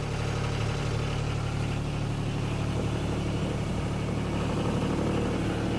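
A 3-cylinder Yanmar 3GM marine diesel engine in a 1981 Hunter 37 sailboat idles steadily with a low, even rumble and faint mechanical clatter, continuous and close throughout, with no voices.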